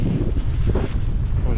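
Strong wind in a Quebec snowstorm battering the microphone as a loud, steady roaring rush with gusty surges throughout, and no clear voices.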